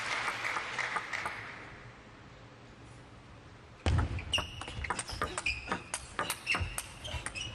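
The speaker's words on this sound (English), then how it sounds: "the knowledgeable audience give him a round of applause for that" A table tennis crowd applauds at a professional tournament, with soft clapping at first, then a clearer burst of scattered, crisp claps with occasional ball and shoe noises in a large hall.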